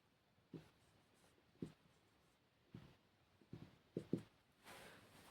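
Faint, sparse strokes of a teacher writing numbers on a board, with a handful of short scratchy taps spread out over a few seconds in a quiet room.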